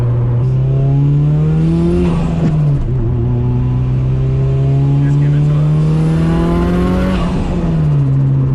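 A loud Mitsubishi Lancer GSR engine revs up steadily to over 8,000 rpm, drops as it shifts, then climbs again, with a voice briefly speaking over it.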